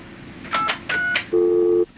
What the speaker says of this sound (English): You enter your 3 to 6 digit identity number